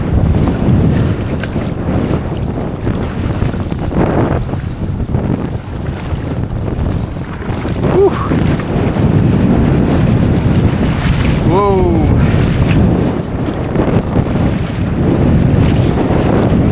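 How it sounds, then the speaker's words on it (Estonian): Strong wind buffets a microphone outdoors by open water while fishing, a constant heavy rumble with lapping waves, and a brief whistling tone midway. "Jama nii suur tuul on."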